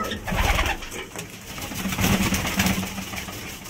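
Pigeons cooing in a loft, several soft low coos repeating close by amid rustling and light background noise.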